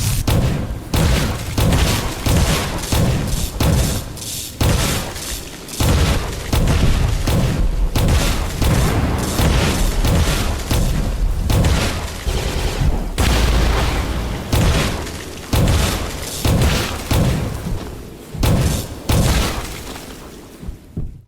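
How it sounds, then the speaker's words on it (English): Repeated heavy booming blasts of the boomstick shotgun in the video game Voidborn, firing in dense bursts over roughly twenty seconds with loud, punchy impacts and a busy game soundscape underneath. "Now the boomstick, the holy grail of weapons, is also both of those things"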